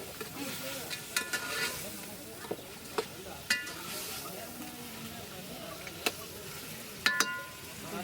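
Chicken curry cooking at a street food stall is stirred in a hot pan: a quiet, steady sizzle of frying with occasional scraping clinks from the spoon, all fairly faint.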